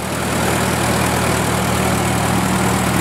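A WWII anti-aircraft gun generator engine idles steadily nearby, a constant low mechanical drone with an even hum and no change in pace throughout, with no voices.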